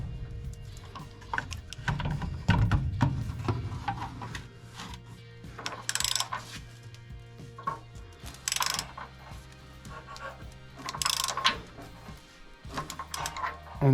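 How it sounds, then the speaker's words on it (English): A socket and ratchet tighten a water heater's anode rod, giving close, irregular runs of metallic clicking and ratcheting with short pauses between bursts, quiet and without talking. "To tighten it though, I am going to start out with a socket and ratchet."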